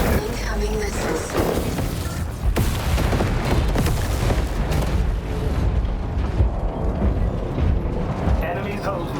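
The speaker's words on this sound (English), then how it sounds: "Incoming missiles." Missile strikes in the mech combat game War Robots: Frontiers, a dense run of booming blasts and rumbling detonations layered over steady gunfire, loud and continuous with a voice talking over parts of it.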